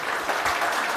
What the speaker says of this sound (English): Big round of applause for our guest tonight.